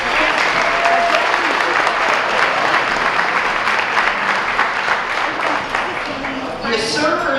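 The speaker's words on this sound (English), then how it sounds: "let's give them a round of applause" A room of guests at a veterans' dinner social applauds the caterers, dense steady clapping close by that fades slightly at the end.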